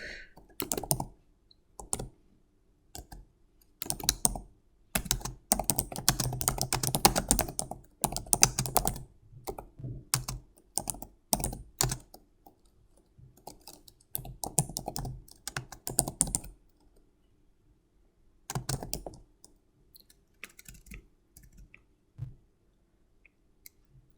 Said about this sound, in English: I can type whatever I want in there